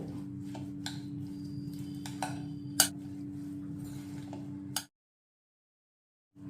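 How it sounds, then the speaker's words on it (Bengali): Chilli powder, cumin and lemon juice are mixed in a bowl, with faint scattered clinks and taps of a utensil against the bowl, quiet and close, then a short silence. "এবার আমি সবগুলোকে ভালো করে মিশিয়ে নেব"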